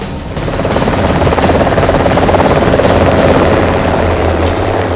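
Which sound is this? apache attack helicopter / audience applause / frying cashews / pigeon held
apache attack helicopter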